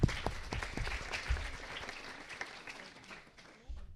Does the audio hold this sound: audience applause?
yes